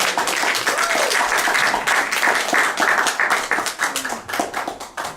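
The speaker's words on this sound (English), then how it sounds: "let's give a nice round of applause for our new assistant minister" A church congregation at an Easter service applauding a new assistant minister, dense sustained clapping from many people that thins toward the end.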